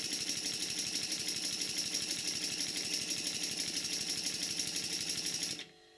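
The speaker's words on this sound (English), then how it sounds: "ious engine that I reviewed from Peter Tarn, this engine runs very well indeed." A Stuart Models No. 7 model steam engine runs in a workshop with a fast, even chuffing beat and a steady hissing, then stops abruptly near the end.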